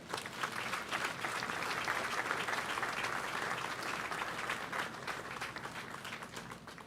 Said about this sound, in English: Ladies and gentlemen, I invite you to give these dedicated officers a round of applause.